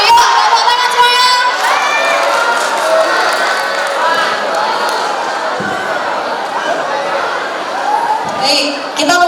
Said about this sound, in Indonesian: Yuk, tepuk tangan semuanya.